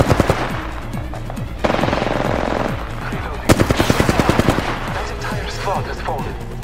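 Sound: gunfire in the video game Apex Legends

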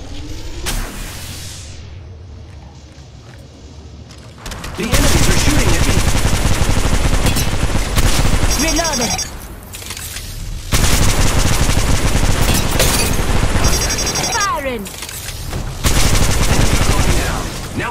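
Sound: gunfire from Apex Legends Mobile video game

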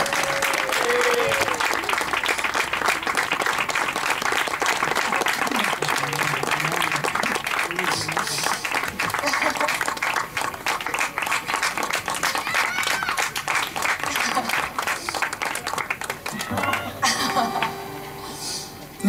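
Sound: audience applause at a concert

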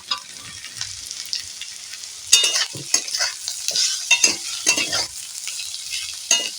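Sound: frying and stirring mango pieces with fried onions

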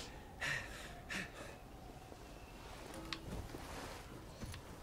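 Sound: skier character panting in the video game Steep

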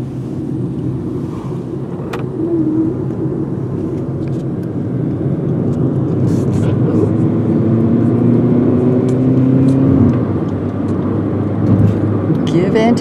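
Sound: car moving

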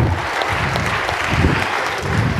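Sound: congregation clapping hands for the Lord

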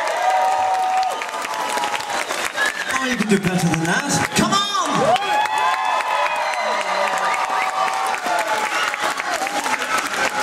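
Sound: audience clapping along at a concert

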